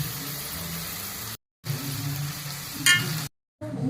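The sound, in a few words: beef frying in a pan with mustard seeds, fenugreek and shallots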